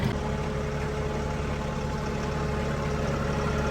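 A tractor engine idles close by with a steady, loud, low rumble and vibration, unchanging throughout and with no voices.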